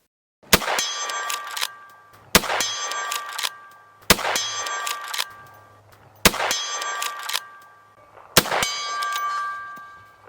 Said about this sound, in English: just listen to with what authority it actually hits that steel plate at around 100 yards